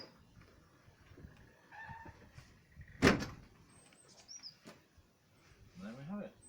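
The back door of a Land Rover Defender, fitted with a new lock, slams shut once with a sharp metallic thud midway, amid quiet background sounds and faint rustling before and after.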